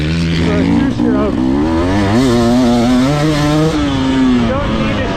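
A 2024 GasGas two-stroke enduro motorcycle at wide open throttle, its engine whining loud and close as it climbs through long-carrying gears with rising and falling pitch sweeps throughout.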